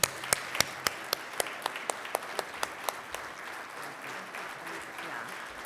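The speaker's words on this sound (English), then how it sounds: "please join me in another round of applause for Ambassador Carson" Applause for an ambassador after a world affairs lecture, starting with a few loud, distinct nearby claps in a quick rhythm over softer, scattered clapping from a small audience.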